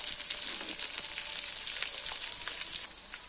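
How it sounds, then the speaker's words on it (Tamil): Dried red chilies and cinnamon fry in oil as the base for a village-style chicken gravy. A loud, continuous close sizzle with light crackling runs throughout and softens slightly near the end. "பட்டை மிளகா நல்லா வதங்கி நல்லா மனமாக வந்துருச்சு"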